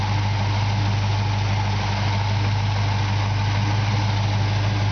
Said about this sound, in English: The engine runs great, there's no exhaust leaks or anything like that.